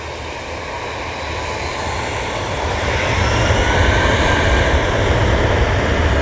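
Short-haul jet airliner engines roar steadily at Manchester Airport, a broad, loud rumble that swells slightly over the six seconds with no talking.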